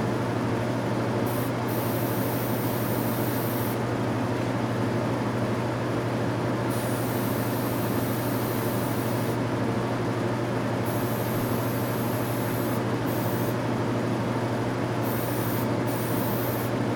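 Airbrush spraying paint onto a pineapple beetle model, a continuous hissing spray heard close up, steady throughout with brief pulses where the trigger shifts, over a constant low compressor hum.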